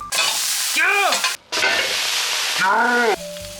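A tomato and cheese sandwich sizzles loudly in a frying pan, a steady close fry broken by a brief gap and by scraping spatula strokes as it is pressed and moved.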